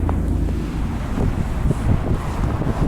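Snowstorm wind blows through downtown Regina, buffeting the microphone with a loud, continuous low roar and gusty rumble, with no voices.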